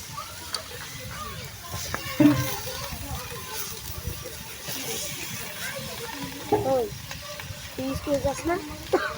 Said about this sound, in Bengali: এখন সবজি দিয়ে দিচ্ছে।